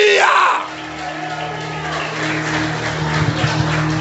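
A Pentecostal church congregation breaks into loud, sustained cheering and whooping with a broad crowd roar, carried over steady instrumental music from the worship band; a single voice calls out just before the crowd swells.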